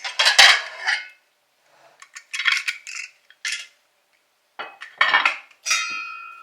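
The lid of a pressure cooker pot holding beef stew is handled and lifted, giving several bright metallic clanks and rattles in short bursts separated by silence, close and fairly loud.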